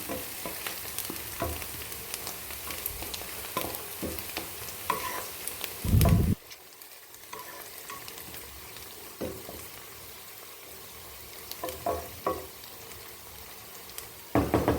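Cinnamon, cloves and cardamom roasting in a hot pan for chicken curry, giving a steady close sizzle with scraping stir strokes throughout, a louder burst of frying around the middle, and no talking.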